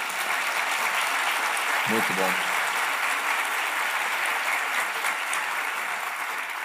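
Steady audience applause at a Portuguese-language business podcast, a dense even clatter of clapping that holds throughout, with a brief spoken word near the start over it.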